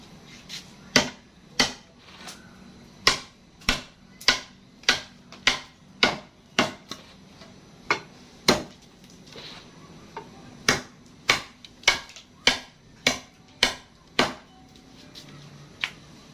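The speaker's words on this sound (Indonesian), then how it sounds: "kita mau menguji ketahanan tajam dan kekuatan bilah dengan kayu ini" Repeated close, sharp whacks of a golok machete blade biting into hard, dry wood, over twenty crisp strikes in a fairly steady rhythm with one brief pause midway, loud and without speech.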